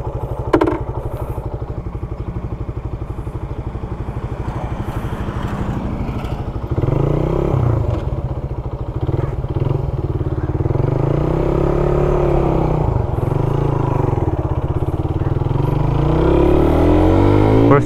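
A Suzuki Raider 150 motorcycle engine idles, then rises loudly as the bike accelerates, pitch climbing and dropping as it shifts up through several gears, close and steady.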